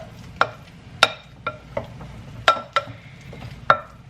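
A fork presses and mashes a large banana in a bowl, giving a series of irregular taps and soft squelches, close and fairly quiet, with no talking.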